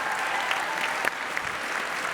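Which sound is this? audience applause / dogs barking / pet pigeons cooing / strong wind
audience applause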